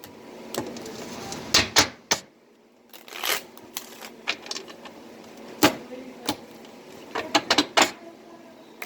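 Playing cards being shuffled and handled at close range, with a series of crisp riffles and snaps, some soft rustling between them and brief pauses, and no voice over it.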